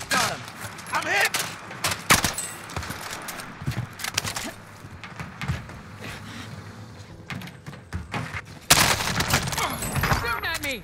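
Gunfire in the Warzone video game, from a C58 rifle, with sharp shots and rapid bursts scattered throughout, some loud and close and others fainter, along with a burst of heavier fire near the end and a player talking over it.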